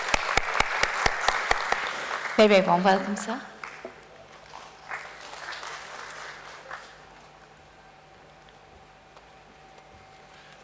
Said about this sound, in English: Let's have a huge round of applause for him, please.